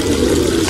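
Water runs from a tap into a bucket in a steady, loud rushing stream, heard close up with no voices.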